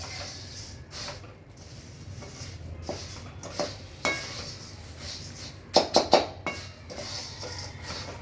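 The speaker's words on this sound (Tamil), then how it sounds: "இதை சிந்தாமல் பொறுமையாக அதை வந்து கிளறிடுங்க" A roasted masala mixture for Maharashtra-style masala poori is stirred in a pan: soft scraping runs throughout, with a few louder clinks of the spoon against the metal pan, close and without speech.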